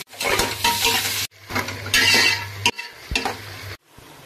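Onions sautéing for mushroom biryani, sizzling and stirring in a pan, with spoon scrapes and clinks against metal, broken by brief pauses, close and fairly loud.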